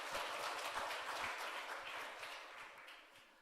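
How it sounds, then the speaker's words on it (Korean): Church congregation applauding during a Sunday service, a sustained, fairly even round of clapping that slowly tapers off. "박수로 격려하겠습니다"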